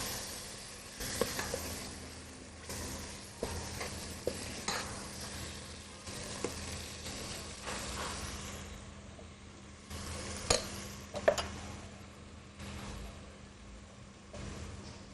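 Curry ingredients tossed around in a pan, a steady low sizzle under irregular scraping and clattering strikes, with a few sharper knocks near the end, no talk.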